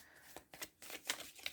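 Quiet, brief riffling and soft slaps of tarot cards being shuffled by hand, a few quick bursts close to the listener.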